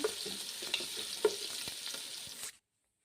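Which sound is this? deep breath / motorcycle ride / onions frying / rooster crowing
onions frying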